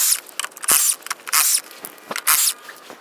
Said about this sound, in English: So let's take this wheel off.